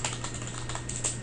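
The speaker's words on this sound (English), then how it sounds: "And then press Enter key on your keyboard." Typing on a computer keyboard, a steady run of quick light key clicks with a couple of slightly louder strokes, close and alone over a low steady hum.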